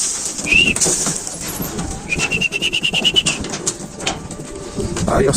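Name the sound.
pigeons cooing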